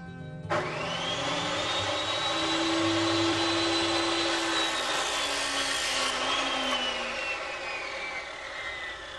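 An abrasive cutting wheel slicing through a wire-reinforced hydraulic hose: a loud, steady high-pitched grinding whine that starts abruptly and holds for several seconds, slowly shifting in pitch, with no voices.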